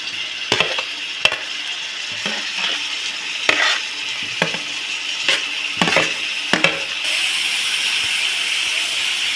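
Tomatoes and green chilies sizzle in a pan for mutton biryani, a continuous hissing fry broken by repeated sharp stirring scrapes and clacks every second or so, close and without talking.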